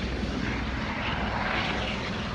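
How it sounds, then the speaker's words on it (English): A tour helicopter passes over Waimea Canyon on Kauai, giving a steady, loud rotor and engine roar that holds evenly through the whole stretch with no voices. "People taking helicopter tours."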